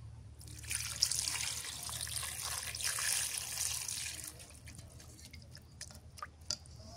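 Water poured into a cooking pan, a steady splashing, trickling rush that runs for several seconds at close range, then thins to scattered drips and small sizzles; no one speaks.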